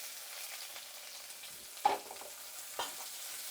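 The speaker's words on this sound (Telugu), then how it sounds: "ఇప్పుడు ఎర్రగడ్డలు వేసుకుందాం" Onions dropped into hot oil already seasoned with mustard seeds, cumin and round dried red chillies, crackling and sizzling at a steady level with two sharp bursts of frying partway through.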